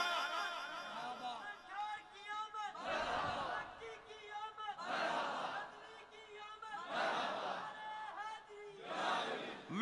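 A crowd at an Eid Milad un Nabi gathering in Quaidabad shouts religious slogans in loud, repeated bursts. The roars answer a speaker's calls at roughly regular intervals, with a voice leading between them.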